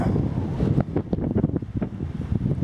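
Strong wind buffets the microphone at Coopers Rock State Forest, West Virginia, on a cold, rainy November day, a loud, continuous roaring rush with gusty pulses and no talking.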